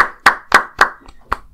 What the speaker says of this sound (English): Can we just have a clap for Killer Mike and LP?